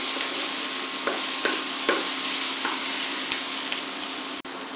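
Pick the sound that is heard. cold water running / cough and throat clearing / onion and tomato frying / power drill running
onion and tomato frying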